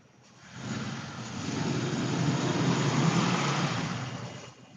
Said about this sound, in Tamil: வெளியே வந்து பைக் எடுத்துட்டு போறாங்க தான் சவுண்டு கேக்குது